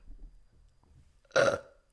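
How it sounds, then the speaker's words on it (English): A single loud, wet burp erupts close up after a stretch of near silence and lasts about half a second before trailing off. "Oh, that was a really gross sounding burp."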